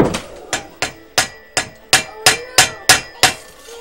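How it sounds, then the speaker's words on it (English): A hammer strikes metal again and again to knock out a broken sealed bearing, giving about ten sharp, evenly spaced, ringing blows at a steady rhythm with no talking. "Then you take the hammer and you put it underneath it like so"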